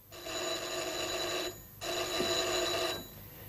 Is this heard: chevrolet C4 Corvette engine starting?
no